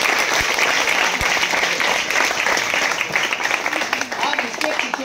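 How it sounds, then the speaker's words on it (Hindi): An audience at a live science-versus-magic demonstration applauds with a dense, steady wash of clapping lasting the whole stretch, a few sharper individual claps standing out near the start. "एक बार जोर से ताली बजाओ"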